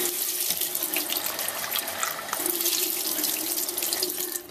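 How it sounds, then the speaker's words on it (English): Water carrying tomato seeds pours through a strainer, a steady close splashing and trickling stream running continuously, with a brief dip in flow midway, no voices. "I pour it through a strainer."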